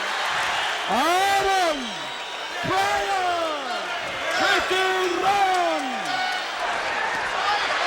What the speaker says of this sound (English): Crowd already starting to cheer.